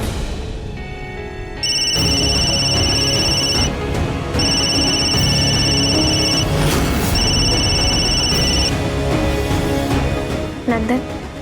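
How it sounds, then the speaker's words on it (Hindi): A mobile phone rings loudly and steadily in repeated electronic trill bursts over continuous background music, with a brief pause between rings. "नंदन, इस वक्त क्यों फोन कर रहे हो?"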